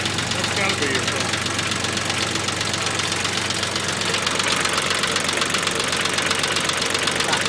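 A small red tractor engine runs just after start-up, close and loud, with a steady knocking idle rhythm and constant vibration throughout.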